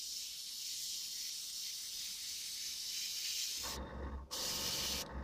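A steady, close airbrush hiss spraying thinned paint on a Revell 1:112 Star Wars X-wing model kit, then a deeper compressor hum joins as the spray briefly pauses and resumes.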